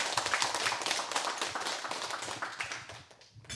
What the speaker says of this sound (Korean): 큰 가르침 주신 방장선생님께 박수 크게 부탁드리겠습니다.